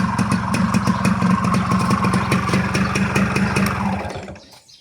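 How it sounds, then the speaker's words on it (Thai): A Honda Tena motorcycle engine idles smoothly and evenly up close for about four seconds, then shuts off and fades to quiet, with no talking. "เครื่องดีนะครับเครื่องดี เครื่องเงียบๆนิ่มๆ เลยนะครับ"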